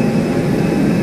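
A jet airliner roars at an airport in a steady, loud, close engine drone that neither rises nor fades.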